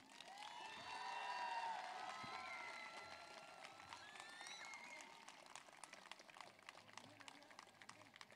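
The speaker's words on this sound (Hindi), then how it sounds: "अपने आप में भी जान डालिए थोड़ी तालियों के साथ में।" A crowd applauds, with scattered claps and excited voices rising early on, then lighter clapping continuing against a busy hall ambience.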